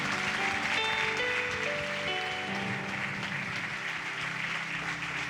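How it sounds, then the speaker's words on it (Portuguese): Church congregation applauding loudly for Jesus during a year-end celebration service, a steady dense wash of clapping sustained throughout with music tones layered underneath. "Você pode aplaudir a Jesus bem forte."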